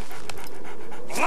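Puppies in a 1996 TV commercial pant in quick, breathy bursts close to the mic, a rapid rhythmic huffing that runs the whole moment and ends with a brief sharper noise.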